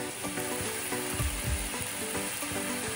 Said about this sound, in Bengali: তো এখন হচ্ছে চিকেনটা কষছে